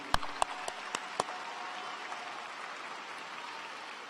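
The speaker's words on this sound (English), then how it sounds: "Please help us say thank you to everyone here by giving our guests here a big round of applause" Audience applause at a high school graduation ceremony, soft and distant, a steady wash of clapping with a few sharp, close claps near the start.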